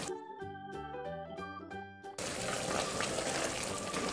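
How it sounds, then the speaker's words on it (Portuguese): Water pours from a tap into a pressure cooker to cover pieces of beef shank, a steady rushing splash that fills the second half after a stretch of background music. "nós vamos agora cobrir de água"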